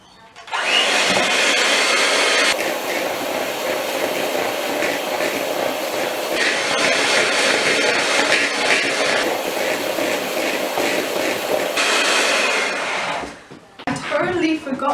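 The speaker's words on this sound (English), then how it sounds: "I'm gonna assume we use electric mixer again." An electric mixer whirs steadily and loudly in a home kitchen, a harsh continuous motor drone that shifts pitch slightly a few times before cutting off near the end.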